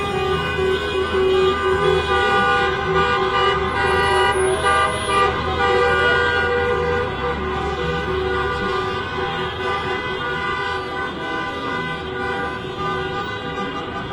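Sustained car horns honking continuously at a rent and mortgage freeze protest car demonstration in downtown Minneapolis, loud and layered over a steady traffic rumble.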